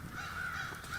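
Crows caw at a campsite out in the woods, a string of harsh calls over a short stretch, faint and somewhat distant, with no talk.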